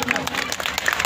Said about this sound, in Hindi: जोरदार तालियां भाई के लिए।